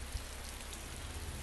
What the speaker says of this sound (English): Apparently it's raining inside of a building.